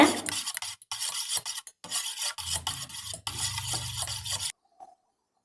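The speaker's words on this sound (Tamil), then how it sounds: "முட்டையை நல்லா அடிச்சுக்கோங்க" Eggs beaten with vanilla essence in a bowl for semolina pudding, a close rhythmic scraping whisk in repeated strokes with brief pauses, stopping near the end.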